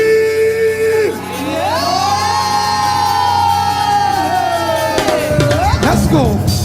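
A worship crowd at an African praise service screams and cheers in a long sustained roar, with high voices whooping and shouting loudly together.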